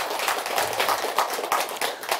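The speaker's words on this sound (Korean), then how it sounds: "박수 한번 드리세요" Listeners at a Buddhist dharma talk give a round of applause, a soft, moderately distant patter of many hands clapping steadily for a couple of seconds.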